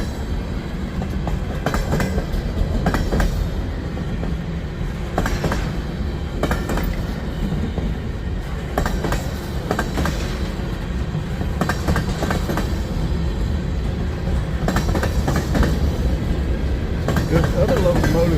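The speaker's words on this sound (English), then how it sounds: "This other locomotive has crept down closer to the crossing" A CSX freight train rolls past near a road crossing in Resaca, Georgia, a continuous heavy rumble with rhythmic clacking of wheels over rail joints, close and loud throughout.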